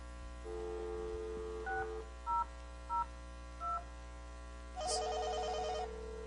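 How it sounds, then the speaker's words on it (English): A Snom VoIP desk phone places a call, with a steady dial tone followed by a series of short keypad beeps and then an electronic ringing burst near the end, all faint with a constant hum underneath. "we're going to use the SNOME phone to make the call"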